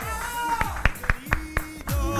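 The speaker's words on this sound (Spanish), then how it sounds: "fuerte aplauso, Rolo" Brief applause from a small studio audience during a Spanish-language TV show: a handful of distinct claps at an uneven rhythm, fairly faint, over a soft tonal background.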